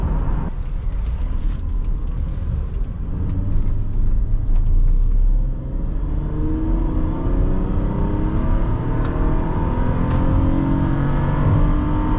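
A 2011 Toyota Camry SE V6 accelerates, its engine rumbling and climbing in pitch under steady road and cabin noise, heard from inside the car with no talking.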